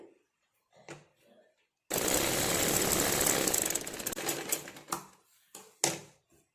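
A sewing machine stitches a hook strip in one steady, loud run of about three seconds, tapering into a few short bursts, with brief handling noises before it.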